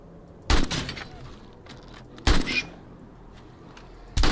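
Three sharp gunshots fired at a bear in the video game 7 Days to Die, spaced irregularly over a few seconds, loud and close against a quiet background.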